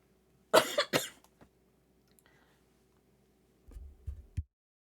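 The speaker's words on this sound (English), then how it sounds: "ended up muting because I went into a random coughing fit" Two sharp, harsh coughs burst out close to the microphone in a quiet room, followed after a pause by a few lower, muffled throat sounds and a final cough.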